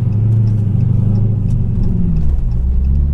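Deep, steady engine rumble from a modified 900+ whp Dodge Hellcat, heard from inside the car as it rolls through the gears, loud and continuous with a slight dip in pitch near the end.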